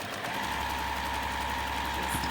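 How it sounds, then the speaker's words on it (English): A sewing machine stitches a basic 5/8-inch garment seam, running in a steady, continuous mechanical drone close to the microphone with no pauses. "I'm just going to sew your basic 5/8 seam that you use with any garment sewing project"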